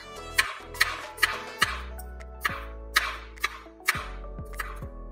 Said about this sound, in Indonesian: Bawang merah, bawang putih, dan cabai kita iris